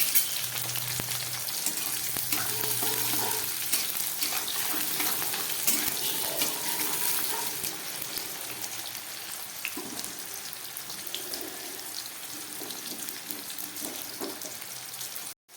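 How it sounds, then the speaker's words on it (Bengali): Pointed gourd tossed into tempered oil with green chillies, sizzling in a loud, dense, continuous hiss that eases slightly partway through, for a mixed-vegetable labra. "এবার এর মধ্যে আমি পটলগুলো দিয়ে দিচ্ছি"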